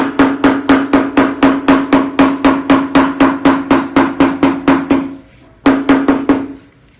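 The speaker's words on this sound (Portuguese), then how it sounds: "vou martelar aqui do direito também" A hammer taps a patchwork fabric seam flat on the right side of a 15 cm quilt square, about two dozen quick, even, close blows, a brief pause, then a few more strikes.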